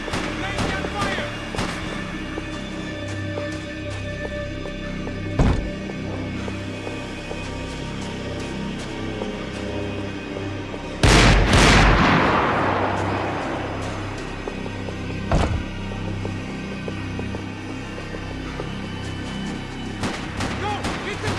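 Gunfire in the video game Max Payne 3, sharp single shots at intervals and one big loud blast with a long decaying rumble, over a busy game soundscape.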